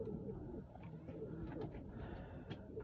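Lal Pari pigeons coo softly in low, repeated murmurs, with a few faint higher chirps over a quiet background.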